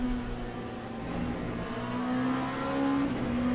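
LMP2 prototype race car engine in the Le Mans Ultimate sim, a steady sustained drone with gradually shifting pitch, held at fairly constant loudness throughout with no talk.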